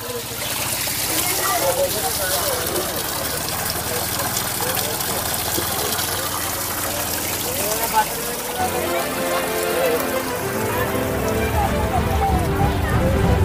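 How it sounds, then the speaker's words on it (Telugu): Water flows steadily at the Chilakala Gutta spring stream during the Medaram jatara, as a continuous rushing wash that fills the whole clip. A busy crowd murmurs underneath, and the texture shifts slightly partway through. "మనమైతే చిలకలగుట్ట జలధార దగ్గరికి అయితే వచ్చాం"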